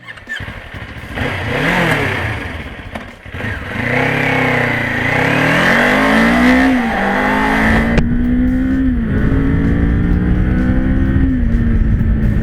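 A Kawasaki Ninja 500 SE motorcycle being ridden, its engine droning loud and steady through rising revs and gear changes, with strong wind rush throughout.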